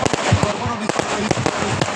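Fireworks at a stadium during a grand final football match in Dunguribali, a rapid string of loud cracking bangs bursting close together over a dense crowd-and-commentary wash.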